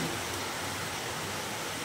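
Steady rain pours down in an even, unbroken hiss, close and continuous with no other sounds on top.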